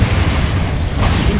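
Confringo and Bombarda explosion spells going off in Hogwarts Legacy, a loud, dense wash of rumbling blasts and bursts that fills the whole short stretch without pause.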